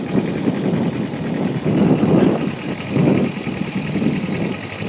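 A motorcycle engine idles and rumbles at close range during a riding test, its throttle swelling in steady, repeated surges of low, throbbing sound.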